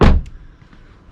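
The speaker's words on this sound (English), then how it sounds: "we will open the door" A Range Rover Evoque door gives a single close, heavy thunk as its latch releases, followed by a light click and a fading rustle.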